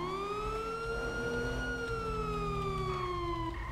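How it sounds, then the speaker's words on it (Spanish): A single emergency siren holds a long, slowly gliding tone over a low engine and road rumble, clear and moderately distant at a roadside accident scene on a highway. "Creo que escucho más sirenas."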